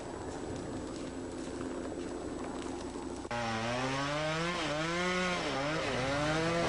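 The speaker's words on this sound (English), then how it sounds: "The chainsaw is a highly effective line clearing tool." A chainsaw used for wildfire line clearing idles with a low rumble, then abruptly revs up loud and close, its whining engine pitch rising and falling as it cuts.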